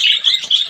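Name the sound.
pet parakeet chirping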